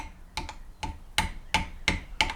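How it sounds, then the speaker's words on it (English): A trailer wheel bearing seal being lightly tapped into place with a hammer, heard as about seven close, sharp knocks in an irregular rhythm, growing slightly firmer toward the end. "You don't want to use a steel hammer. You could, but you just want to lightly tap it."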